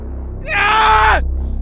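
A boy's single loud scream in a cartoon horror story, rising sharply, holding for under a second, then sliding down and cutting off, with nothing else heard around it.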